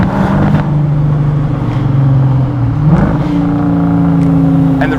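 A 2003 HSV GTS Coupe's 5.7 litre V8 drones steadily under load as revs rise and fall, with a few faint pops and crackles from the exhaust during a gearchange near the middle.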